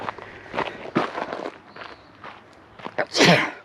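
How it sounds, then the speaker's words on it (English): A single sharp sneeze bursts out near the end, preceded by shuffling footsteps and light rustling close by. "Oh, I'm gonna sneeze."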